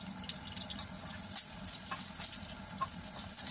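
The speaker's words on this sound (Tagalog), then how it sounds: "at igisa natin yung ating mga onion, garlic, and ginger." Onion, garlic and ginger sauté in hot oil in a pan with a continuous, fairly quiet watery sizzle and occasional small crackles.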